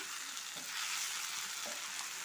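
Taro stems with prawns frying in a pan with ground cumin and coriander give off a steady hissing sizzle, with a couple of soft stirring scrapes, close and quiet, no voices.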